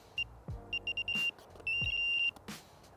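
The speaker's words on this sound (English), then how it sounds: "the amount that they beep depends on how fast the line moves over them" A Nash Siren R2/R4 fishing bite alarm gives a run of sharp electronic beeps, some single and some close together in quickening bursts, heard close and clear against faint background thumps, with no talking.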